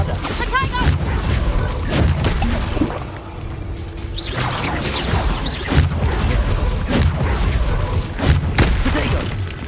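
A Bombarda blasting spell going off in Hogwarts Legacy, with booming thuds, whooshes and crashing debris amid busy combat noise, and a voice calling out spell names over the action.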